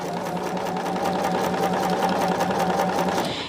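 A sewing machine running continuously as it stitches a half-inch seam, a steady fast mechanical whir with a rapid rhythmic needle chatter, close and unbroken, with no talking.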